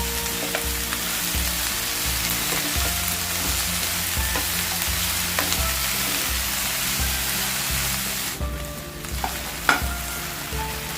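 Okra (bhindi) pan-roasting for a spiced dry dish: a constant dense frying crackle with a low rhythmic hum underneath and occasional spoon knocks, steady and close, with no voices.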